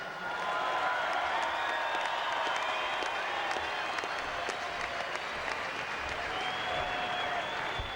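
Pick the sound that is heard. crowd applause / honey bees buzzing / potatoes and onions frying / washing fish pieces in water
crowd applause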